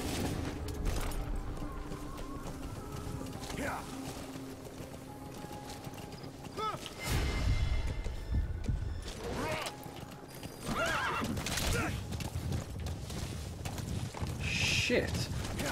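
A horse in the Metal Gear Solid V video game repeatedly neighs and whinnies over galloping hoofbeats, loud and close, with game sounds around it.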